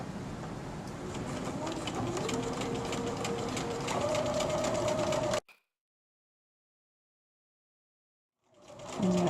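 A sewing machine runs a straight stitch along a zipper edge for a ungainly zippered ear bud pouch, a steady close mechanical whir that cuts off abruptly into silence before starting up again briefly.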